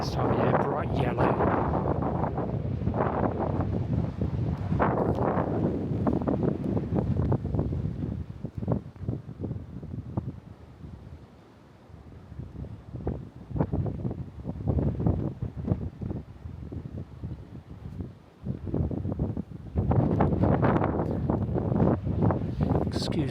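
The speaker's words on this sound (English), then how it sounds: "Excuse the noise of the wind." Gusty wind on the Isle of Wight Undercliff buffets the microphone in loud rumbling bursts that rise and fall, with a voice talking intermittently underneath.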